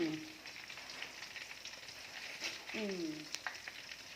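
Thai fish cakes (tod man pla krai) sizzle softly in hot oil, a faint steady hiss with a few brief stirs and clinks, and no talking.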